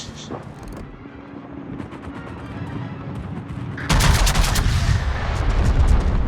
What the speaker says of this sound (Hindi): इससे अच्छा फायर नहीं हो सकता था।